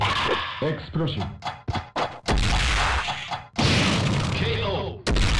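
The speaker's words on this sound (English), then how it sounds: "Explosion." Explosion effects in a Mugen fighting game match, a series of loud percussive booms and crashes in quick succession with announcer-style speech between them.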